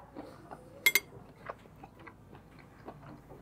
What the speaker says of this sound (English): Let's cut into the sausage.